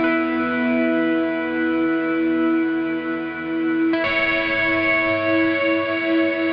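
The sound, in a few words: electric guitar with chorus vibrato pedal effect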